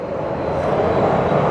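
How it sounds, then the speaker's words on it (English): Airliners depart at Phoenix Sky Harbor airport, making a steady, loud broadband jet-engine roar that holds constant throughout with no voices. "So all of our planes are starting to depart slowly."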